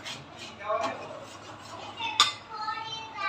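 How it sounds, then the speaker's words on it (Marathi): Masala being sautéed in a pan for a spicy usal curry with mutton, heard as soft scraping and clinking of a utensil against the pan, with a sharper metallic clink partway through and faint background voices. "हे परतून ठेवूया आणि परतून घेऊया"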